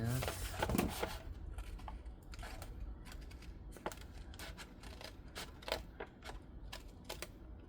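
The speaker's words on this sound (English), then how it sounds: "I have to use my little scissors when I get to these points sometimes" Small scissors make a series of quiet, irregular snips and clicks cutting denim fabric, close by, with a brief rustle of handling near the start.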